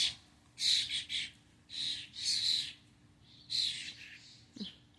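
Birds call outdoors in several loud, shrill bursts of a second or so each, separated by short pauses, with a steady low hum underneath.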